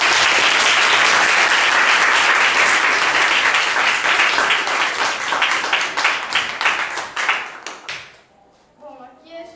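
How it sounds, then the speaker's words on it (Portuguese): Applause fills a school classroom during an eighth-grade debate on monarchy versus republic, with dense, loud clapping that thins into scattered claps and fades out near the end. "Que palmas para Ana."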